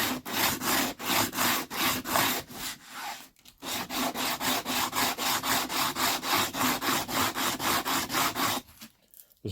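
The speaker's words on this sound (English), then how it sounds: "This is 80 grit sandpaper" 80 grit sandpaper rubbed back and forth over a sassafras acoustic guitar fretboard, a loud close rhythmic scratching of even strokes with a brief pause partway through.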